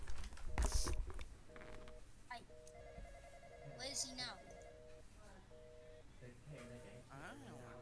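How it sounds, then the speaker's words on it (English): A phone in a Roblox horror game rings in repeated short electronic tone bursts, fairly faint, alongside other game noises and a loud thud early on, with people talking over it. "The phone!"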